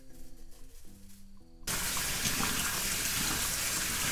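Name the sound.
washing fresh clover buds under running tap water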